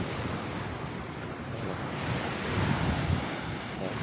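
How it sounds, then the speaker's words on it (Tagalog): Choppy sea waves wash steadily under buffeting wind noise on the microphone, a low continuous surge with a slightly stronger swell midway, no voices. "So medyo maalon-alon konti."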